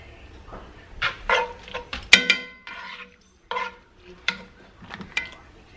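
Spoon scraping and clinking against a dish while cream cheese is mixed into keto casserole ingredients, a run of short close knocks and scrapes with brief pauses between them.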